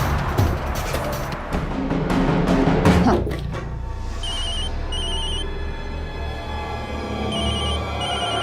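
A telephone rings repeatedly at a steady pace, loud and close, over a tense dramatic music bed in a crime drama scene.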